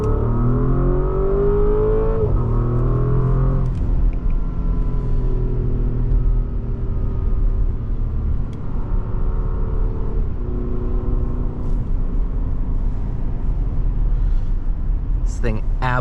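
A 2024 Porsche Cayenne S Coupe's 4.0L V8 pulls hard from the driver's seat, its droning tone climbing through a gear change and settling into a loud, steady rumble, with a faint whoosh near the end.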